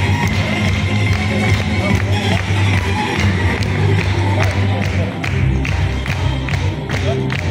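Loud applause and cheering from an audience in the hall of a culture and leisure centre in Ivanovo, at a regional ten-year celebration of the Ready for Labor and Defense programme, with dense continuous clapping and crowd noise while a group photo is taken.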